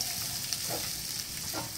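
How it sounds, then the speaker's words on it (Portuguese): Chopped onion sizzles steadily in a hot pan already full of other ingredients, a continuous close frying hiss with brief stirring scrapes. "Vamos misturar essa cebola nessa, nessa explosão de sabores que está essa panela."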